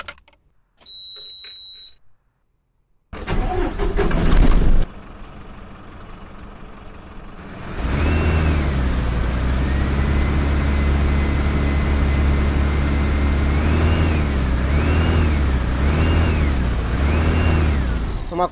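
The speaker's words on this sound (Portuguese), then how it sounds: "vamos ligar o nosso carro aqui para sentir um pouco do motor" In Proton Bus Simulator, after a few clicks and a short burst of noise, a Mercedes-Benz bus diesel engine cranks and settles into a loud, steady idle with a rhythmic rumble.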